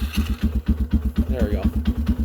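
A cold Sears Suburban garden tractor engine idles low and rough with a steady, chugging pulse close by. A brief voice-like sound rises over it once.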